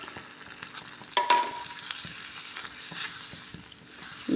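Butter chicken gravy stirred after boiled milk is poured in, a quiet bubbling sizzle broken by a few soft scrapes and knocks of the spoon in the pan, with no one talking.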